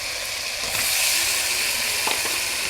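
Fish hits a pan of spice paste and fries with a loud, steady sizzle, broken by a couple of brief clatters from stirring.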